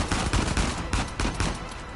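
Continuous rapid assault rifle fire in Uncharted 4, loud and close, pounding without pause for two seconds with no voices.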